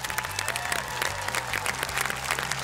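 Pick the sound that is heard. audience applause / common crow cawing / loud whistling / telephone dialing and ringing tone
audience applause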